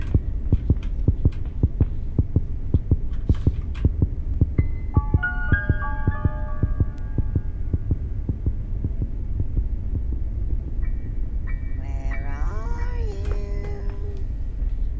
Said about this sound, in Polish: jak zaczyna mi serce napierdalać